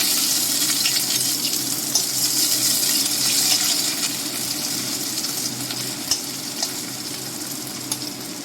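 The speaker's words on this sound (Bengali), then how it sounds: "ভালো করে ভেজে নিয়েছি আদা কাঁচা লঙ্কা" Ginger and green chilli fry in peanut oil with a continuous, even hiss and sizzle, broken by a few light clinks of stirring.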